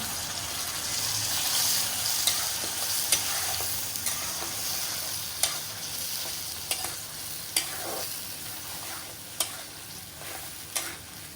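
A blended spice paste sizzles steadily in a hot pan of cooking for a saag and dried-fish curry, with a spoon scraping and stirring in regular clinks throughout.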